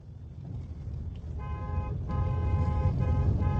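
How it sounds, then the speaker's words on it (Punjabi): A car horn honks in sustained blasts that start partway through and repeat with short breaks, over a steady rumble of engine and road noise. "ਹੱਥ ਰੱਖ ਹਾਰਨ ਤੇ"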